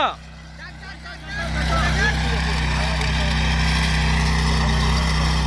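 A 9 HP power weeder, a power tiller, is started during a demo, with a short rough burst before its engine rises into a loud, steady, close drone that holds to the end.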